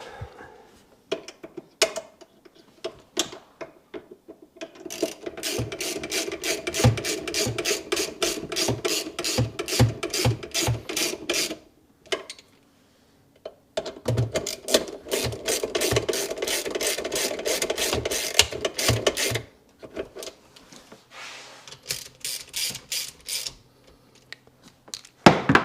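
Hand ratchet tightening bolts during a Sea-Doo 4-Tec engine swap, with long runs of rapid, even clicking close by, broken by short pauses and a few quieter stretches.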